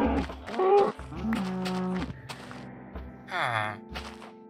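Yellow cows in a Minecraft-like video game let out several low, drawn-out moos at close range, with short gaps between the calls and a few faint game sounds around them.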